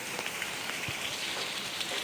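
Heavy rain in Chennai pours down in a steady, dense hiss, with scattered drops ticking on a surface and no voices.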